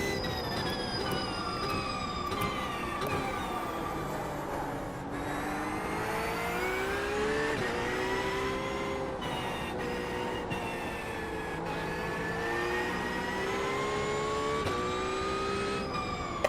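A racing car engine in the iRacing sim laps the Nürburgring Nordschleife, revving continuously with rising pitch sweeps through gear changes and brief drops, steady and prominent with no voices.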